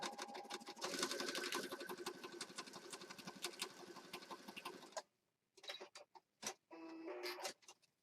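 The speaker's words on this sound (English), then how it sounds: "I'm just going to go ahead and start a zigzag stitch right down the middle." A sewing machine runs a zigzag stitch through paper junk journal pages in a steady rapid whir, stops around the five-second mark, then restarts in short bursts before settling into another longer run.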